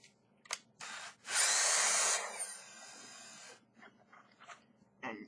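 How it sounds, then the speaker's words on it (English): A power drill whirs loudly for about a second in a high, buzzing whine while drilling a hole through the center of a homemade coil jig, then spins down and carries on more quietly before stopping. "drill a hole right through the center."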